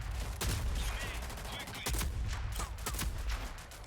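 Rapid bursts of gunfire from a shooter video game sound close and fairly quiet, with sharp repeated shots over a low rumbling game bed.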